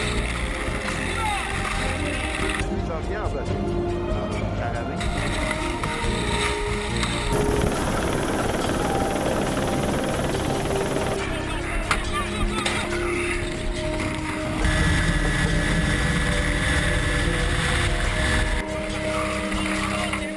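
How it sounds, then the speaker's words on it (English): A team canoe crew paddles hard against a strong river current, with continuous rushing water and splashing from the blades, a roaring wind-like wash throughout and shifting intensity as the boat works upstream. "paddling against the current in order to prevent being drifted too far"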